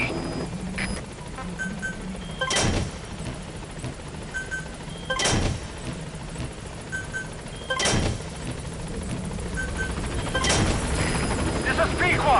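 Helicopter Pequod arriving at a landing zone in the video game Metal Gear Solid 5, with a steady rotor hum and heavy periodic whooshing thumps about every two and a half seconds, and radio speech over it.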